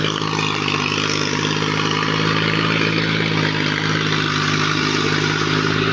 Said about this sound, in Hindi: ये सोनालिका का ट्रैक्टर है।